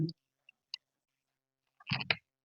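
A computer mouse gives a few sharp, quiet clicks, sparse and isolated in near silence, followed by a short burst of voice sounds.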